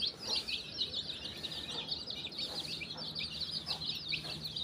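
Native country chickens raised at home, clucking and chirping steadily in a continuous high chatter of many birds, close by and moderately quiet, with no talking.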